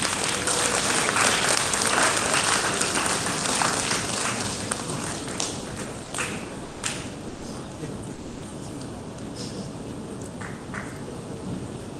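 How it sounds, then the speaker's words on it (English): Audience applause welcoming the chief guest at a university talk, a dense sustained clatter of many hands that is loudest at the start and gradually thins and softens over twelve seconds. "Let's give him a warm round of applause as he comes forward to grace us"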